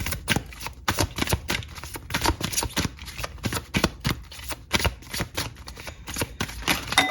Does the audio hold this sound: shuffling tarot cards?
yes